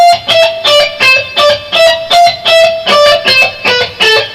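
Electric guitar played through distortion and an effects unit, running a scale at a slower tempo: loud, close, evenly spaced picked notes in a steady rhythm, with no voices over it.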